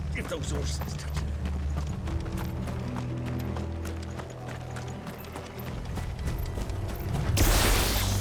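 Horses walk with steady, repeated clip-clop hoofbeats in the video game Final Fantasy XVI, layered with mechanical rattling and a low rumbling bed, and a louder burst of noise near the end.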